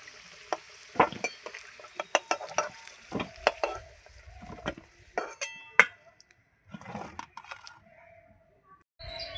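Fried potatoes lifted out of a pan of hot oil, with a steady faint sizzle under repeated sharp clinks and scrapes of a metal utensil against the pan, the clattering pausing near the end while the frying hiss continues.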